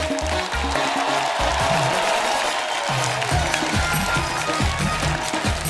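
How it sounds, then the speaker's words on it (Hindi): Loud studio audience applause and cheering welcomes superstar Sunny Deol on a comedy talk show stage, steady and dense throughout, with music and low rhythmic beats running underneath. "आप सबकी जोरदार तालियों के बीच"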